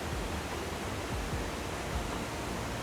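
Machine Falls on Bobo Creek pours with a dense, steady roar of falling water that holds evenly throughout, close and unbroken, with no voices.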